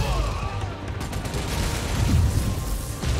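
Enemy gunfire in Marvel's Spider-Man: Miles Morales, a steady stream of shots and thuds over dense combat noise and rumble, with no clear break between bursts.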